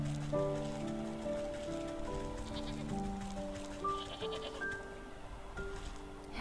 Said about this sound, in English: Mountain goat, a shaggier cousin of the familiar goat?